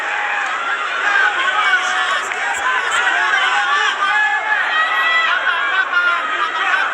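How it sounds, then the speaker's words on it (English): A large arena crowd at a professional boxing bout roars and chatters continuously, a dense loud wash of voices throughout. "Listen to that crowd. They're enjoying this."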